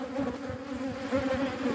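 Honeybees buzzing close around an active hive on a hot day, a dense droning hum with a steady pitch and overlapping wingbeats, continuous and fairly near, no voices.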